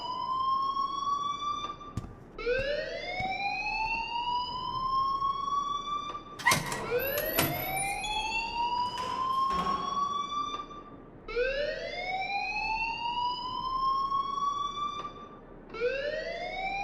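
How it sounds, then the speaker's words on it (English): A fire alarm blares in the video game Life is Strange, a loud repeating siren whoop that sweeps upward again and again, with brief clanking noises cutting in midway. "please turn off that alarm since that's your job"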